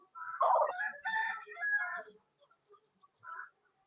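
A rooster at a poultry farm crows nearby in one long, loud call, followed by a few quiet clucks and a short final squawk.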